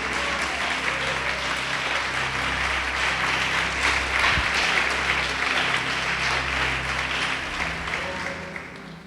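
A church congregation claps during worship, a steady, moderately loud wash of applause over a low sustained musical hum, easing slightly at the end.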